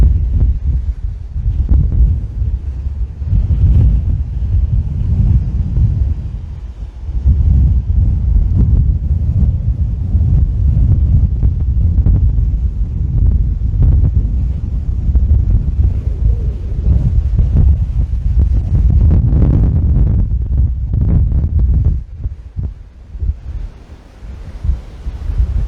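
Heavy wind at a coastal point in Barbados at sunrise buffets the microphone in strong, rumbling gusts that roar almost continuously, easing slightly near the end.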